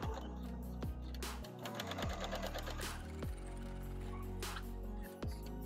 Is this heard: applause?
no